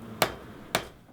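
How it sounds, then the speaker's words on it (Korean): Two sharp metallic hammer strikes in a blacksmith's forge, spaced about half a second apart, each ringing briefly and decaying before quiet resumes. "망치 하나면 뚝딱뚝딱 문제가 해결됩니다."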